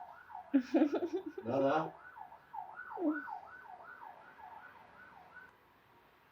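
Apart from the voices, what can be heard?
ambulance siren passing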